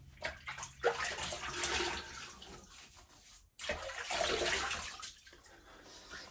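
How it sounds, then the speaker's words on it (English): Water splashes and runs as hands scoop it onto the face before a wet shave, in two close bursts of sloshing and dripping separated by a short pause. "let's get some water on the face"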